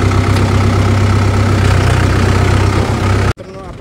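Tractor engine pulling a cultivator while ploughing a maize field, a steady loud low drone that runs unbroken close by, then cuts off abruptly near the end.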